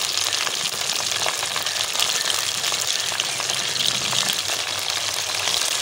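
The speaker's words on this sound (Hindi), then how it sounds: "अब इसमें हम टमाटर ऐड करेंगे।" Tomatoes dropping into hot oil for a Peshawar-style Charsi karahi, giving a steady, loud frying sizzle that fills the whole stretch without pause and with no talk.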